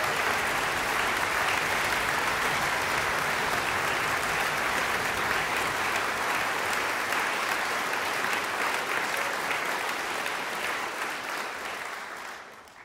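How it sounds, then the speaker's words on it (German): Large concert audience applauding steadily for about twelve seconds, dense and sustained, easing off at the very end. "Also es ist schon ein Applaus wert"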